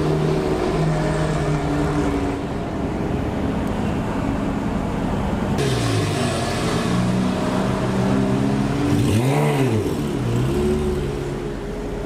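Lamborghini Aventador fitted with an IPE exhaust revving on a London street in summer, engine note rising and falling in loud sweeping pulls over steady traffic background, with a sharp climbing rev burst near the end.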